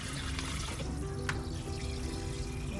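Water runs steadily in a kitchen during washing, a continuous close hiss of flow with faint clinks, and no talk.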